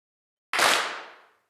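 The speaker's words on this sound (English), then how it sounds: "I have something we call the clap stack" One sharp, thick clap made of several layered hits, bursting suddenly and then fading out over just under a second.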